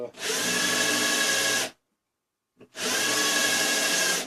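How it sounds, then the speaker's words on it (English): A power drill countersinks a screw hole in wood for a treasure box, running in two steady high-pitched whirring bursts of about one and a half seconds each, separated by a short silence. "auger this one out a little bit so that I can countersink it here"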